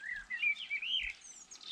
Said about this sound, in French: Le merle, il est content.